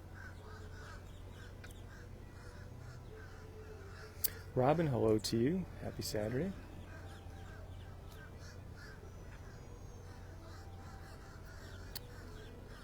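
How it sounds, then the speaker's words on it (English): A few loud crows caw in a quick burst nearby at EPCOT, against a quiet outdoor background, with a person talking at other moments. "And the birds are a-squawking."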